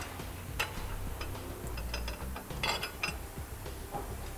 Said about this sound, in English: Now we'll take our U-bolt, go up underneath the leaf spring and through the holes on our bottom bracket, thread on our nuts